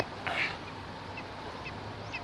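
A bird gives a few short nasal, duck-like quacking calls at a distance over a steady outdoor background hiss, faint and spaced apart.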